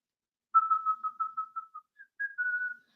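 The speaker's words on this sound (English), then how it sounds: "I should probably just stop whistling." A single person whistles a clear melodic tune, a string of short steady notes followed by a brief pause and a higher sustained phrase, close and fairly quiet with no talking.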